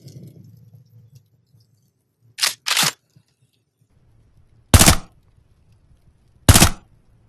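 Suppressed gunfire in the VR horror game Maleficence, four short muffled cracks spaced apart over a quiet low hum, the first two close together and the last two louder and isolated.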